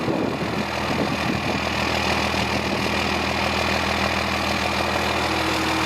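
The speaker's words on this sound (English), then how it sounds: "the way that damn big rig exhaust sounds" A 12-valve diesel second-generation Dodge truck idles with a steady low rumble and throaty exhaust chug, constant and fairly close, with no voices.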